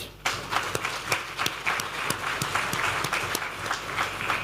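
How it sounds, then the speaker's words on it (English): Audience at a Ugandan government brand unveiling clapping together for God, a steady rhythmic burst of many hands ringing through a large gathering, loud and sustained with sharp individual claps standing out. "put our hands together and clap for the Almighty God"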